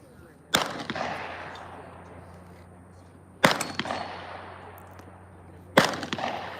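Three sharp rifle shots crack out during target shooting at the Best Ranger Competition, spaced a few seconds apart. Each report is loud and echoes away into a long reverberant tail across an open range.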